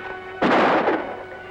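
A single gunshot fired as a signal in snowy mountain country booms out once with a rolling echo, loud and alone.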